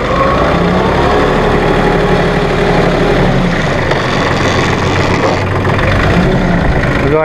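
A 2005 New Holland TC30 compact tractor with loader runs in first gear, high range; its diesel engine drones steadily and close, without a pause.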